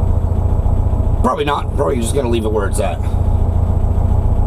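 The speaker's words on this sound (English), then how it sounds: "Right now, she's idling great." The air-cooled engine of a 1964 VW Beetle idles with a steady, low, even rumble throughout, while someone talks briefly over it at close range.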